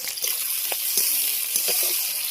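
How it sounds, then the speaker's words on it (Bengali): Chopped onion and green chili fry in hot oil in a kadai, a dense steady sizzle up close with a few soft stirring clicks, no talking over it. "এবার দিয়ে দিচ্ছি পেঁয়াজ কাঁচা লঙ্কা।"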